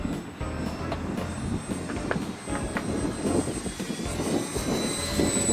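An ElectriFly Reactor Bipe electric RC biplane coming in to land on a windy day, its motor a thin, distant whine over steady wind rumble across the whole stretch.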